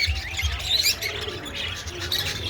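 A cockatiel gives a few short chirping calls among other birds, with scattered tweets over a faint low rumble and no talking.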